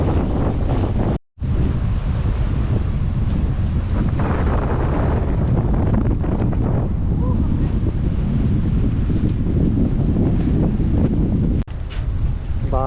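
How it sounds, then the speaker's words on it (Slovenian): Strong wind roars over an anchored sailboat, with gusts buffeting the microphone and waves washing against the hull. It is a loud, continuous rush with a brief dropout near the start. "Danes bo pa zelo vetrovno na sidru."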